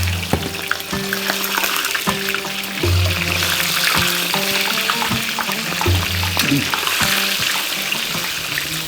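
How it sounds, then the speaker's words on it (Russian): Quail eggs fry in heated oil while pilaf cooking goes on, giving a steady bubbling sizzle with clinks and scraping of utensils throughout, and a low hum underneath. "Я вот буду сейчас обжаривать перепелки."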